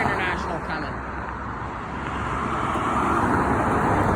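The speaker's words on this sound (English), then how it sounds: "And then there's another International coming." An International truck passes on a busy road, a broad steady roar of engine and tire noise mixed with surrounding traffic, fairly close and continuous.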